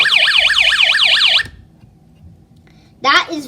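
Loud electronic alarm wailing in rapid up-and-down sweeps for about a second and a half, then near silence before a short burst of the warbling tone starts again, in a home DIY project.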